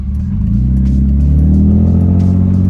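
A BMW E46 with the M54 straight-six, catless eBay headers and straight pipes accelerates, a loud, steady, deep droning exhaust rumble building without pause.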